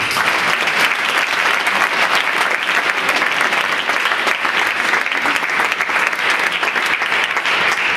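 Dense, steady audience applause at an after-prom hypnotist show, a loud continuous wash of clapping from a large crowd lasting the whole stretch without a break.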